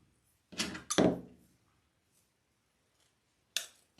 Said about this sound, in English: just trim it off with scissors